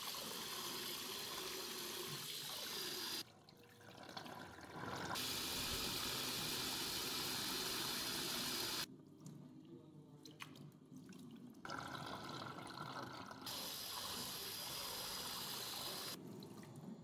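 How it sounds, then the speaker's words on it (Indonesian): Glutinous rice being washed by hand in water, a steady wet dripping and splashing with running-water texture, fairly close, continuing with brief quieter pauses and no talk. "Kemudian ini saya cuci beberapa kali sampai benar-benar bersih."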